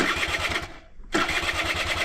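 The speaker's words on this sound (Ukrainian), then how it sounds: "як мопед вигрівся, дивись, він повинен заводитися з полтичка" Honda Tact AF moped engine being started, its steady mid-range engine drone running throughout apart from a brief dip near the middle before it catches again.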